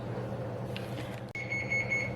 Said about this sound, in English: I just heard it beep now, so it has reached the 350-degree temperature that I require